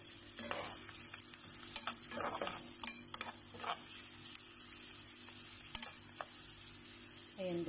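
Onions frying in a pan for ampalaya with egg, a low, steady sizzle with scattered clicks and scrapes of stirring over a constant background hum, fairly quiet throughout.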